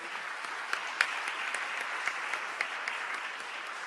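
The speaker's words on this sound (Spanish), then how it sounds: "demos un aplauso de saludo" An audience at a municipal reform seminar applauds to welcome undersecretary Salaverry, a steady moderate patter of clapping with a few sharper individual claps standing out, no voices over it.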